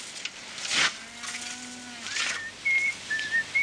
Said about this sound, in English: heard him whistling bonny and clear